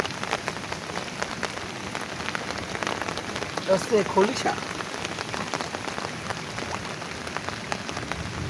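Steady rain falls on a surface outdoors, a dense even patter of drops throughout, with faint voices speaking under it.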